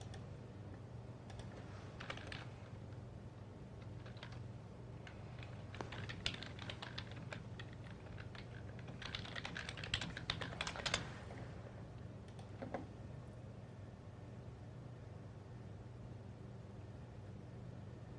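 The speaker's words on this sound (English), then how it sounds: "I can hear your little fingers clicking away there" Fingers type steadily on a computer keyboard during a live poker night broadcast, quiet clicking in irregular bursts over a low background hum, with no voices.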